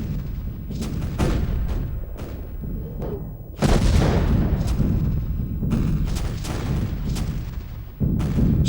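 Old cannons and naval guns bombard the Sveaborg sea fortress in a continuous barrage. Heavy booms land close together over a constant low rumble, with louder blasts punching through at irregular intervals.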